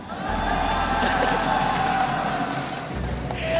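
A crowd at an MPL Malaysia esports event cheering for a team, a loud, sustained roar of voices with claps and whoops and an underlying low hum.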